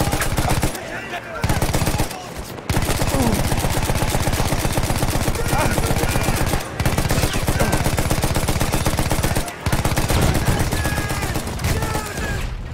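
Sustained automatic machine gun fire in the World War I shooter Battlefield 1. It comes as long, dense, rapid bursts with a few brief pauses between them, loud and close throughout.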